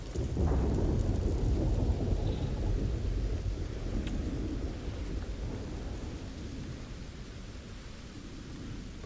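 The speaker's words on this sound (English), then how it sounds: "Ooh, lightning." Thunder from a lightning storm on an ocean coast in the video game Starfield: a deep, heavy rumble that rolls loudly, then slowly fades over several seconds amid steady rain-like noise.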